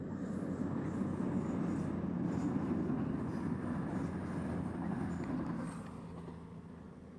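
A train rolls over a railway bridge above a riverbank on the Avon, heard from underneath as a steady, muffled rumble that holds for several seconds and then eases slightly.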